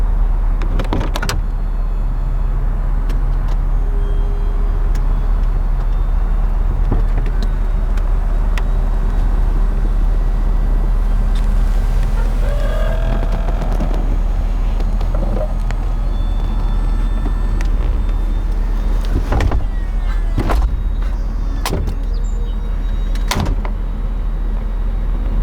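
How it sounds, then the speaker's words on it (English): The power convertible top of a 1990s Bentley Azure runs through its cycle, a long, loud mechanical hum with motor whirring, clunks and latching knocks over a constant low drone. "that switch controls the top, and the process is tremendously interesting. It is rather violent and rather loud"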